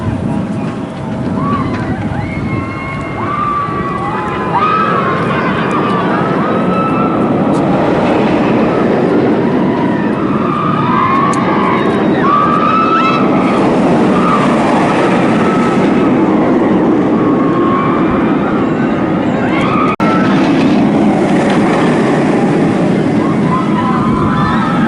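The Dominator roller coaster at Kings Dominion roars along its track with continuous rattling and clattering, loud and close throughout, while riders' voices and screams rise over the rumble.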